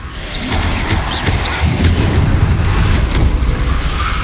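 Repeated Confringo blasting-spell explosions in the Hogwarts Legacy video game, a steady run of deep booming thuds and crashes that stays loud throughout, with no talking.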